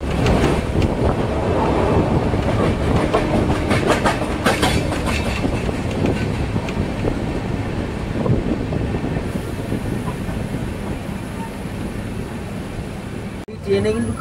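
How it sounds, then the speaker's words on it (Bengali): Hatia–Howrah train pulling into Howrah station, with loud continuous rolling rumble and rhythmic clickety-clack of wheels over rail joints, easing slightly toward the end. "হাটিয়া হাওড়া, এটা হাওড়ায় ঢুকছে হাটিয়া থেকে।"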